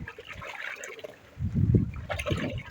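Water swirling and sloshing as a snail treatment is stirred into a bucket of water on a snail farm, a soft trickling wash that swells into louder churning partway through, heard alone.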